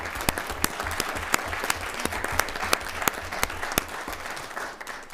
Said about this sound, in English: we give you all a round of applause